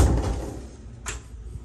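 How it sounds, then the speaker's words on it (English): A bathroom door in a beachfront resort condo closes, with a soft thud at first and a brief latch click about a second later, fairly close. "Close the door."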